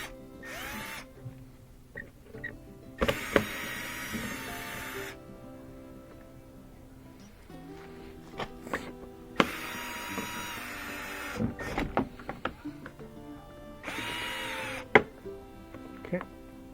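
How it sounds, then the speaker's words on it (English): A power tool whirs in several bursts, each a few seconds long, as screws come out of Prius rear bumper pieces. Clicks and handling noises fill the gaps between bursts. "I take these screws out, get these pieces off to add to the new one."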